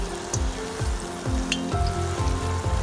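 Chiacchiere carnival pastries fry in hot oil in a closed room without a hood, giving a steady close sizzle with bubbling crackle throughout and no talk.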